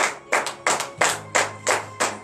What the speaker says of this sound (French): Donnez de vive acclamation à cette parole